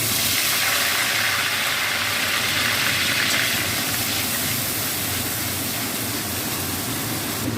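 Onion paste fries in hot oil with a loud, steady sizzling hiss that runs without pause, no voices.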